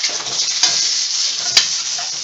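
Jalapeno bacon wrapped pork chops sizzle steadily as they brown in a hot pan, a bright continuous hiss of frying fat broken by two brief scrapes or taps.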